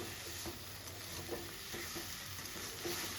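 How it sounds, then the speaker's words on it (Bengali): Potatoes frying with poppy seed and green chilli paste, a low steady sizzle with regular scraping strokes of a spatula stirring in the pan, close and without voices. "খুব ভালো করে পোস্ত কাঁচা লঙ্কা বাটাটা দিয়ে আমাদের খুব ভালো করে কষিয়ে নিতে হবে আলুটাকে"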